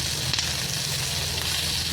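Peanuts sautéing in a pan on a Marathi home stove give a steady, close sizzle with faint crackles, running evenly from start to finish with no talking.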